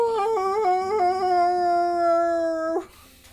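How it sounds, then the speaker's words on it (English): A husky named Bilbo lets out one long, drawn-out howl, close and clear, rising and stepping in pitch before cutting off abruptly into quiet. "you could say Bilbo, and Bilbo would go ow."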